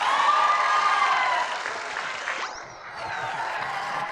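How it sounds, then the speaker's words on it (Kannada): Studio audience of a Kannada comedy show clapping, a broad steady wash of applause that thins and fades partway through, with a brief whooshing swell near the middle. "ಹುಡುಗರ ಚಪ್ಪಾಳೆ ಹೊಡಿರೋ."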